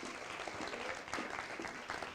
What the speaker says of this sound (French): Merci Anne, je crois qu'on peut l'applaudir.